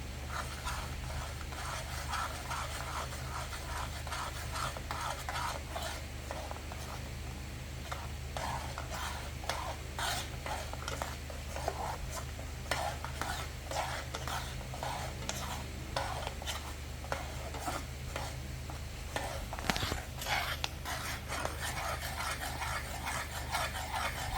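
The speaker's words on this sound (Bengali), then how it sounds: "হ্যাঁ পুরোটা দিয়ে দাও নেড়ে ফেলো" Katla carp fishing bait mixed with spices is stirred by hand in a bowl, giving a quiet, continuous scraping and squelching with soft taps scattered through a long stretch.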